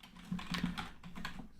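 Quiet, close keystrokes on a computer keyboard during a C programming lesson, tapping out short uneven bursts of clicks with no talking.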